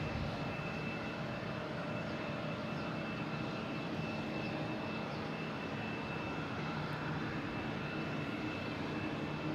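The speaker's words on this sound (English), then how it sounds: "Next to arrive is Boutique Air, coming in from Messina." A Boutique Air airplane arriving at Boston Logan airport, landing on runway 22 left, gives a steady, broadband engine roar that holds evenly throughout, fairly distant and without talk.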